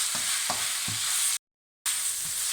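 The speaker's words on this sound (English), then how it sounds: "Another couple of minutes just to fry those off, get those combined in the ingredients." Ginger and garlic frying in a pan for a lamb pepper fry, a bright continuous sizzle with a few low stirring knocks near the start, close and loud, broken by a short silent gap.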